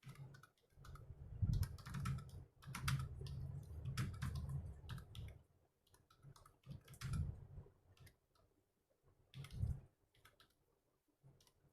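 Typing on a computer keyboard in MS Word: bursts of close, soft key clicks come in irregular clusters with short pauses between them.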